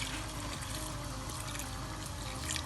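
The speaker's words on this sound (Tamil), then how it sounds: "இதெல்லாம் கொஞ்சம் முழுகிற அளவுக்கு தண்ணி ஊற்றிக்கலாம்." Water pours steadily into a pan of crab masala being cooked for a Tamil-style crab fry, making a continuous soft trickling wash with no voices.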